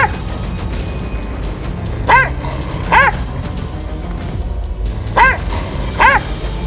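A stray dog in a street in Kharghar, Navi Mumbai, barking four times in two pairs of sharp, fairly close yaps over a steady background of traffic and street noise.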